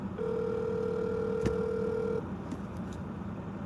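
An unanswered phone call gives one long steady ringback tone over faint background noise, then falls silent as the ringing ends.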